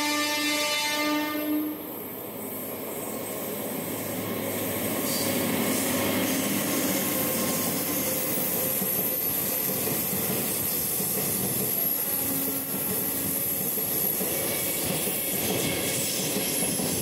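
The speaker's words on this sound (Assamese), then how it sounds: "প্লেটফৰ্মত আছোঁ, ট্ৰেইন আহি আছে" A train pulling into a station platform, loud and sustained throughout, with a brief horn-like tone at the start followed by the steady rumble and rattle of the approaching cars.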